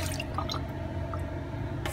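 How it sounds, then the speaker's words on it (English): Water drains out of a container of sprouting seeds being rinsed, giving a steady liquid trickle with scattered drips and small splashes throughout. "I'm gonna go ahead and rinse it."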